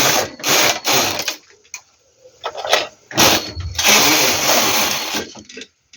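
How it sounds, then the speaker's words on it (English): Knitting machine carriage pushed back and forth across the needle bed for two rows while knitting an adult V-neck vest, giving loud mechanical whirring sweeps in several bursts with short pauses between passes. "I'm going to go back and knit 2 rows."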